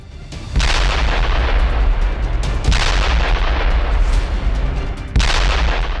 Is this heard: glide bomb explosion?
yes